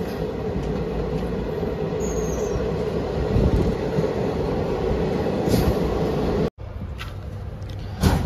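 An express passenger train rolls along the tracks past fields, a steady loud rumble of wheels and carriages with faint squeals, briefly cut near the end before resuming.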